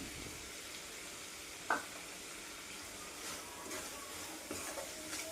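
Dried small fish, already fried, tipped into a softened tomato curry for a brinjal dry-fish dish, giving a steady low sizzle with a short splash and scrape of stirring partway through.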